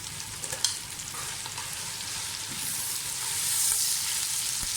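Tomatoes go into a hot frying pan while cooking chana pulao, making a soft, steady sizzle with faint stirring scrapes, quiet and close, swelling slightly toward the end with no talk.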